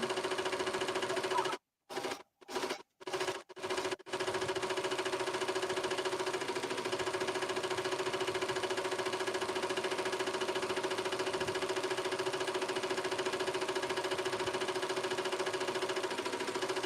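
An embroidery sewing machine stitches a fabric applique with a steady, fast mechanical whir and hum that continues evenly, interrupted by several brief silent gaps near the start.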